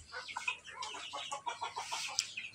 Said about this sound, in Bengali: দেশি মুরগি, বুঝছো?